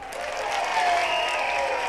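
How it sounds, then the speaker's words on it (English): An applause sound effect played on a Lowrey touchscreen organ and transposed into B flat, giving a steady, synthetic-sounding wash of clapping with a faint pitched tone running through it, heard alone. "So that's the applause in the key of B flat."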